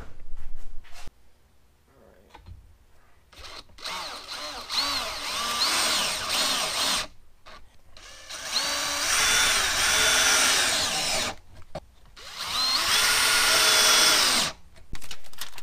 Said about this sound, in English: So I'm going to get some short screws and go through here, mount these up right now.